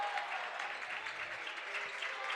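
A crowd at a high school varsity boys basketball game against Beal City cheers and claps in a steady, fairly distant roar with no break.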